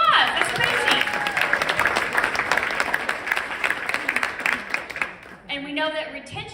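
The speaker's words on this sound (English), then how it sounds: "Give yourself a round of applause." Audience at a business recruitment talk applauding loudly, a sustained crowd of clapping that fades toward the end as a voice starts speaking.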